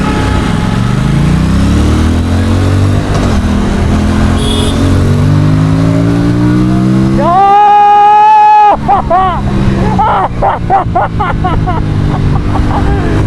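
An Aprilia Tuono 457 motorcycle engine idles loudly, then revs in sharp bursts: one sustained high-pitched rev followed by a rapid series of short blips, all close to the microphone.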